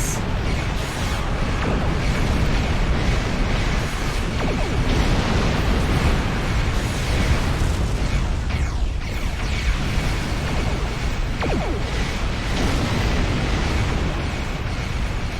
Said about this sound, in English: Torpedo.